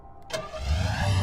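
A car engine starts up in the top-down action game Hotline Miami, a short click and crank followed by a low idling rumble that swells and holds steady, close and fairly loud, with no talking.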